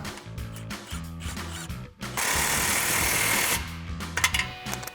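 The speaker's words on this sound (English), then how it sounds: "So we're gonna switch back to our 15mm socket and tighten our clamp for our muffler." A 15mm socket on a ratchet tightens a muffler clamp on a 2024-2025 Mustang GT MBRP cat-back exhaust, giving quick repeated ratcheting clicks in short bursts, then a longer stretch of rough buzzing before the clicking resumes.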